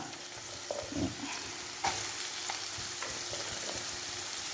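Bitter gourd and potato stir-frying in a pan with chilli and ginger, a steady sizzle broken by several scraping stirs and clatters of a spoon against the pan, close and fairly loud, with no talk.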